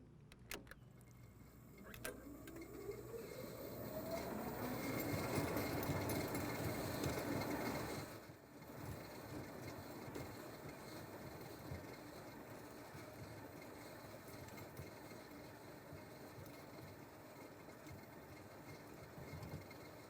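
An Allett C27E battery-powered cylinder mower cutting grass near houses: a faint electric whine rises as it spins up, then settles into a steady, quiet whirr of the reel that briefly dips before continuing.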